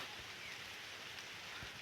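Light drizzling rain falls outdoors in a rural village field, a soft, even wash of patter with no voices.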